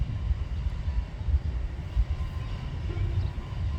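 A long freight train with DPU locomotives rolls past in Durand, a steady low rumble of rail wagons with fluctuating clatter and no distinct horn, heard from a short distance.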